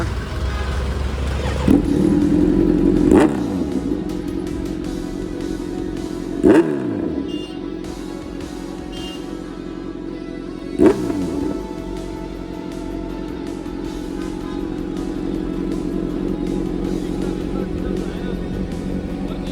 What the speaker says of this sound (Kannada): ನೋಡಿ ಇಂಜಿನ್ ಆನ್ ಮಾಡ್ತಾ ಇದ್ದಾರಾ